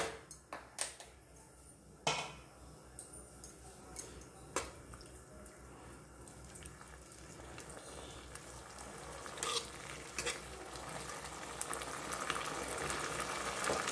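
Bottle gourd cooking in a wok over a full gas flame, with a bubbling, sizzling wash and a run of sharp spoon clacks and scrapes early on, then a denser steady simmer; no talking.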